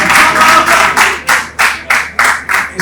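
Loud, close rhythmic clapping from an audience in bursts about every third of a second, a strong even beat like clapping along in time.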